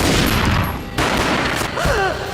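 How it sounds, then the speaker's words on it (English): A rapid burst of loud gunfire from the Max Payne video game, several close booming shots in quick succession over a muddy, echoing backdrop. "The gunshot boomed and she fell down in slow motion"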